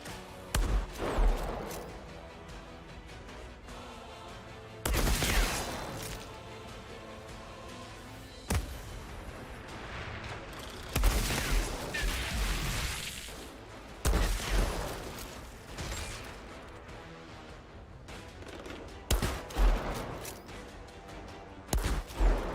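Gunfire from the Outriders video game, including a no-scope sniper rifle: loud, sharp reports in irregular bursts roughly every few seconds, with rumbling tails and a dense game soundtrack underneath.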